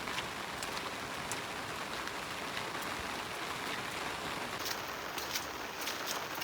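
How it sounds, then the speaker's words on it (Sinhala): Steady rain pours down on a wet day, a dense, continuous hiss of drops spattering on surfaces close by, with no voices. "අදත් ඉතින් වැස්ස දවසක්"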